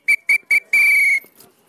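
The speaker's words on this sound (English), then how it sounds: "I'll blow the whistle." A coach sounds a sharp whistle during a ball wall first touch coaching drill: three short, evenly spaced blasts, then one long sustained blast, loud and close with no talking.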